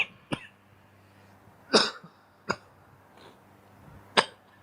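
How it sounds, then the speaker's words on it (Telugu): Someone coughs several times in separate sharp bursts spread over a few seconds, close and fairly loud against a quiet room, with a softer throat-clearing cough among them. "కొంచెం దగ్గు."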